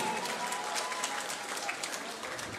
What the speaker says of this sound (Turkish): o güzel alkışlar